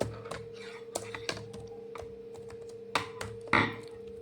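Keys clack on a computer keyboard while code is entered, a sparse run of separate taps with uneven gaps and two louder strokes near the end, close and clear over a steady electrical hum.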